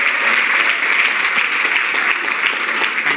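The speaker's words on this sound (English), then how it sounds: "Round of applause for him." Steady applause from a gala dinner audience, a dense, continuous clatter of many hands clapping throughout, loud and close with faint voices mixed in.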